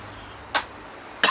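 A person who has been ill coughs close to the microphone: one short dry cough, then a second, louder cough a moment later, with a quiet room in between.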